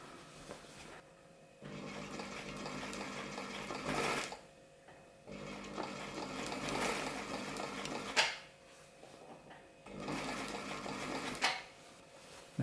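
An Elna Supermatic Star 62C sewing machine top stitching, its steady mechanical whirr running in several bursts separated by short pauses, close and fairly quiet.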